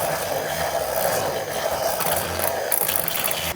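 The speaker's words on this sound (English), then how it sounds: "I'm gonna take my little handheld frother." A small handheld frother whirring steadily in a warm pumpkin spice mixture, a continuous buzzing, rattling drone held close and loud throughout, no voices.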